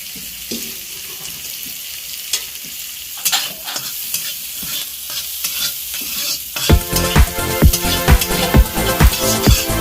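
Chopped carrots go into a hot pan, and the quiet hiss and clinks of stirring give way to louder, rhythmic scraping strokes over a steady fry, close up and with no talk.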